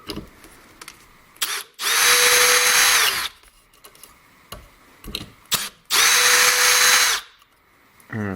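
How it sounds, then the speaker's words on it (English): A Milwaukee M18 cordless drill backs screws out of wood in two loud, sustained whirring bursts of about a second and a half each, with clicks and handling knocks between them. "Use the drill to pull these out."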